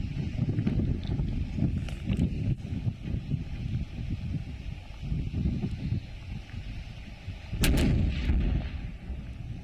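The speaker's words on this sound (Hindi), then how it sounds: "फौज की तरफ से विस्फोटक को तबाह किया गया है।" An army's controlled detonation of an explosive device in Jammu and Kashmir: a booming blast rolls through low rumbling noise, followed by a sharp, loud burst near the end, with wind buffeting throughout and no voices.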